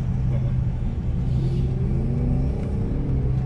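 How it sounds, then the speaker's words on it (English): A school bus churns past on a muddy off-road track at a fall mudfest, its engine a steady, heavy low rumble with a gradual rising rev, close and continuous. "School bus went through."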